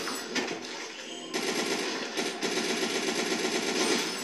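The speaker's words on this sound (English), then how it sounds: "Machine gun." Machine gun fire in a mobile shooter game, rapid sustained bursts rattling continuously with a brief break, fairly loud and alone.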